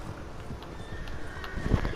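Horse galloping in Red Dead Redemption 2 Online, a steady run of hoofbeats that swells louder toward the end, heard beneath a voice talking.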